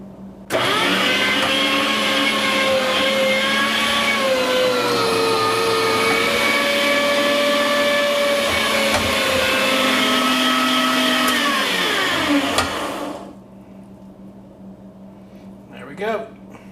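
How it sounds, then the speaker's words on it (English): Chilled Italian sausage meat goes through an electric meat grinder fitted with a medium coarse 3/16 inch plate, giving a loud steady motor whine with a shifting pitch for about twelve seconds, then it stops and a voice is heard briefly. "The meat's in the freezer, getting ready to come out right now and run through the grinder"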